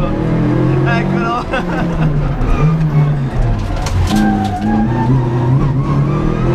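A Renault Clio 1.8 Group N rally replica with a rollbar, its engine revving up and down through shifting pitches on a road drive, loud and close, with someone talking over it.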